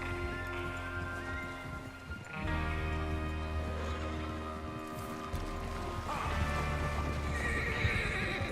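Horses neigh and whinny over clip-clopping hooves in the video game Red Dead Redemption 2, with a steady low drone and tonal layers running underneath throughout.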